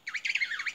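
A bird in the video game The Trail gives a short, quick run of chirpy, warbling whistle notes, close and clear, lasting under a second with no talk over it.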